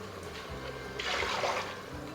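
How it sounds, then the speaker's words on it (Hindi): Water poured into a tomato and green chili paste in a home kitchen while making shaljam gosht, a brief splashing rush that swells midway and then settles, fairly soft against steady background noise. "पानी डाल देंगे।"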